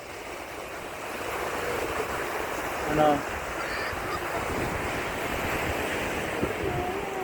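Ocean waves wash in at the sea in a steady, broad roar of big waves with wind buffeting the microphone; a person briefly speaks midway.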